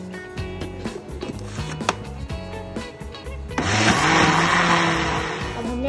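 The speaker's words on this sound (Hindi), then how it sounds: "अब हम इसमें 4 अंडे ऐड कर देंगे और इसको मज़ीद 4 मिनट तक ग्राइंड करेंगे।" An electric mixer whirs loudly while beating cake batter for a plain bakery-style cake with four eggs, a harsh whine that steadies into a fuller, louder grinding churn as it runs on.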